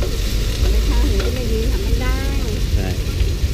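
Crispy mussel omelette (hoi tod) fries on a hot griddle at a Thai food stall, giving a steady close sizzle with scraping and stirring, while people talk faintly in the background.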